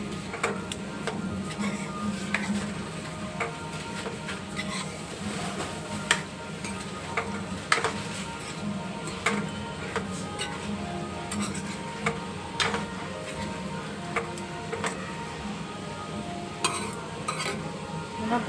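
Chicken masala gravy seasoned with salt is mixed in a pan, producing a soft, steady sizzle with frequent sharp ticks and scrapes of the spoon throughout.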